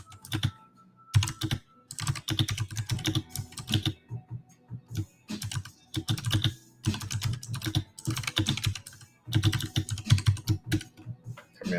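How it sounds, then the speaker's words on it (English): Fast typing on a computer keyboard, close and clear, in uneven bursts of clattering keystrokes with brief pauses between runs. "I'll type up the other one"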